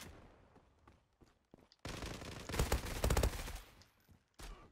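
Automatic fire from an MP5 SMG in the Zula shooter game comes in loud bursts, faint and sparse at first, then heavy and sustained through the middle, with a final short burst at the end.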